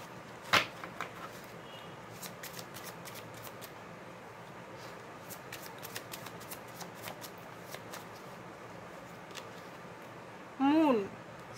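Tarot cards being shuffled in short crisp riffling bursts near the microphone, interspersed with light card handling, with someone speaking through much of it.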